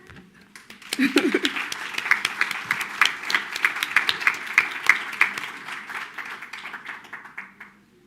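A group at a sustainable infrastructure symposium media briefing in South Africa applauds, clapping building quickly to a lively, sustained round before tapering off; a brief voice is heard at the start.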